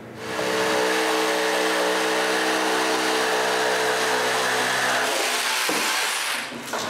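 A power saw cuts through the end of a 2x12 wooden board, a loud, steady, continuous whine that holds for about five seconds, then stops abruptly, with a brief rattle as the saw winds down.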